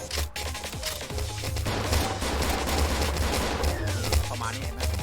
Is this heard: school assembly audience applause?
no